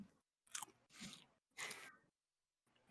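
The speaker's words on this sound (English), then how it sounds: "He's got the cutest little crunch sound." Crunchy vegan chicken nuggets chewed close to a microphone: three or four loud crisp crunching bursts separated by brief silences, with a fainter bite at the end.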